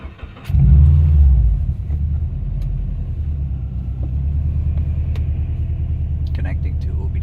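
A car engine cranks and catches, then settles into a loud, steady idle rumble close by, with an OBD2 diagnostic adapter plugged in.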